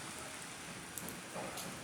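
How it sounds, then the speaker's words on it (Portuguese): Heavy rain falls steadily in a dense, even hiss of drops on surfaces outdoors, a continuous wash with no pauses, recorded at a moderate distance with no one talking. "Mas eu vou passar na chuva."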